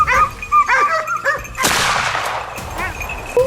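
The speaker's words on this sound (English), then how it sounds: "A well-placed shot to a vital spot brought the boar down." A sharp, loud gunshot cracks out as hunters fire at a charging wild boar, with a pack of hunting dogs barking and yelping excitedly close by before and after the blast.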